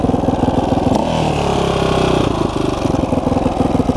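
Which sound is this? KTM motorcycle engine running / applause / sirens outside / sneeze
KTM motorcycle engine running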